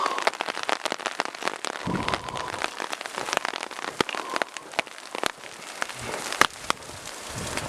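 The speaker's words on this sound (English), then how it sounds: "Oh, it's raining." Rain falling in a Southern Oregon pine forest with wind blowing: close, dense patter of drops hitting surfaces all around, with irregular sharp ticks and splats that continue throughout, with no voices.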